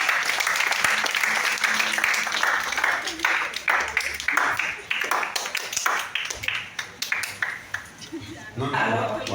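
An audience at a panel at the Centre Thomas Sankara bursts into loud, sustained applause for the centre's president, with scattered claps and whoops that thin out into sharper individual claps before swelling again at the end.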